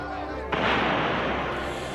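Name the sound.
cannons firing grape shot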